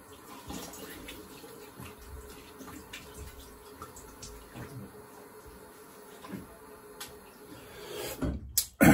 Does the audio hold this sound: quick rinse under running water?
yes